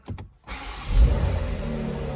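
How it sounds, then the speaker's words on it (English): A BMW X3 M Competition engine cranks with a couple of short bursts, then catches and roars to life, settling into a loud, rumbling idle. "the minute you start this car up, you can really get a sense of that wonderful sounding engine"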